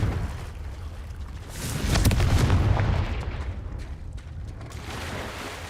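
A Confringo fire spell in the video game Hogwarts Legacy bursts with a rumbling, roaring blast that swells for about a second, then trails into a lower crackling rush.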